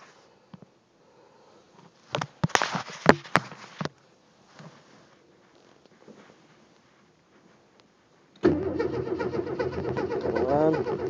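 A 1965 AMC Rambler with an inline six cranks in roughly -5 winter cold, sputtering through short bursts after quiet stretches, then catches and idles loud and rough nearby.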